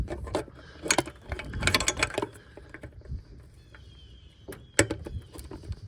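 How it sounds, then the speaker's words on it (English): Ratcheting a wrench to loosen the alternator pivot bolt on a 1996–2002 Toyota 4Runner. Quick bursts of metallic clicking come in clusters with short pauses, close up and fairly loud. "we're gonna loosen up our pivot bolt here"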